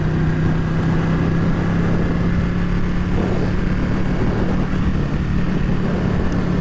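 A Ducati Panigale 899 motorcycle cruises along a road, its engine a steady low drone blended with rushing wind noise, even and continuous with no talk.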